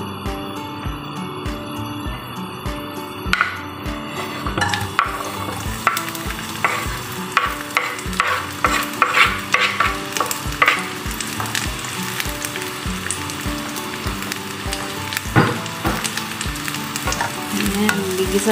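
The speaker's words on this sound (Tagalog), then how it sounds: "Gigisa natin siya hanggang sa magiging golden brown siya guys, yung ating onion." Onions sizzle and fry in a pan for lamb majbos, a steady bright crackle with repeated scraping stirs of a utensil throughout, fairly close with no voices.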